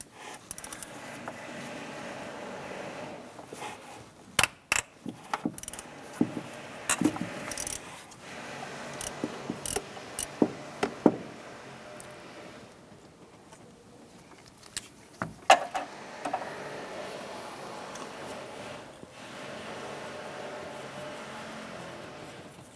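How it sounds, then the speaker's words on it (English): A ratchet fitted with a 10mm socket and extension loosens and removes a bolt on a 1993-1997 Ford Ranger during camshaft position sensor work, giving scattered sharp clicks and metallic taps at close range over a low background hum. "Let's go ahead and loosen and remove that bolt."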